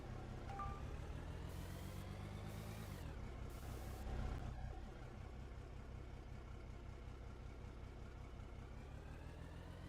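A rock truck engine in the Out of Ore mining game on a hilltop mine site, reversing, with a steady low engine drone running continuously throughout, a brief louder swell midway, and no speech.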